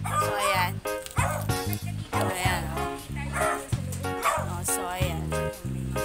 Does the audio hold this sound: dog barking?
yes